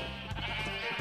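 A baby sheep bleats in Minecraft VR, one steady, near bleat lasting about a second and standing out over the game's background sound.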